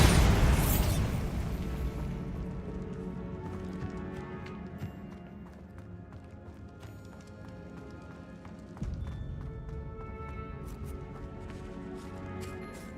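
A spell blast goes off in a video game: one loud, deep burst right at the start, then a rumbling decay with scattered clattering debris and faint background sounds.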